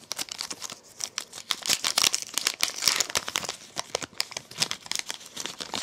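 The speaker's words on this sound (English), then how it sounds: "Be a bit more careful with opening these packs" A Pokémon card blister pack wrapper is torn and crinkled open close up, giving a quiet, busy run of irregular plastic crackles and rips that continues throughout with no talking.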